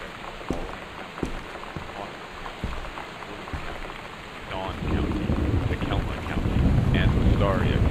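Thunderstorm with rain in the video game Gone Home, a steady wash of rain with sharp thunder cracks early on, swelling louder and rumbling in the second half.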